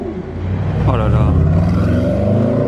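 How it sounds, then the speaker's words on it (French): A Shelby Cobra sports car accelerates hard on a Monaco street, its engine note climbing in a loud, close, rising roar over a few seconds, with a voice talking beneath it. "l'accélération de la Secobra, j'étais pas prêt"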